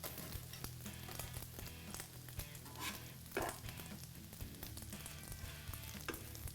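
Vegetarian appetizers frying in a pan, a steady close sizzle with soft crackles and occasional turning clinks, heard alone without talk.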